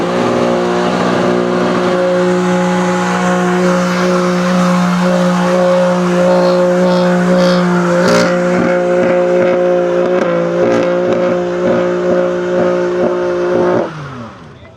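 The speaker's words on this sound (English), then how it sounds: "M3, give us a young burnout" A BMW M3 does a burnout at a private track day, its engine holding a loud sustained howl with steady harmonics and tire squeal for about fourteen seconds before the revs abruptly cut off.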